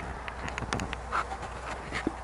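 Mosquitoes buzz around a tent on a cool early morning during a bicycle trip in Russia, thin intermittent whines coming and going close by over a quiet background.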